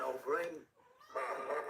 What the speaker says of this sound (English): If you hear any meowing